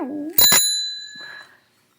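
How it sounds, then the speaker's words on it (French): In an improvised music performance, a bicycle bell gives one bright double ring that fades over about a second. A short vocal sound comes just before it and a faint rustle as it dies away. "Des fois, il y a un vélo, je prends la sonnette, c'est trop tard, il est passé."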